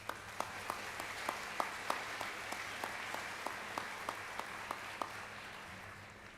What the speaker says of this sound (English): give a round of applause to the people who made today possible